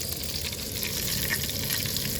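Cumin seeds frying in hot oil for chicken sukka, giving a steady, dense sizzle that stays loud and even throughout, with no talking.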